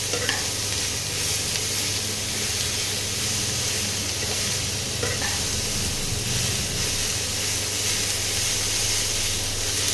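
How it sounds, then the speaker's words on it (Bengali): Chopped bottle gourd sizzling steadily in a hot pan while being stirred, a constant frying hiss with occasional scrapes. "লাউগুলোকে একটু নাড়িয়ে নিই"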